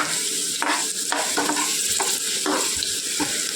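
Masala for sambar fries in a pan with a continuous hiss, punctuated by regular spatula scrapes roughly every half second, close and alone without speech.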